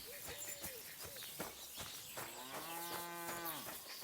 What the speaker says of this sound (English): It definitely sounded like a moo.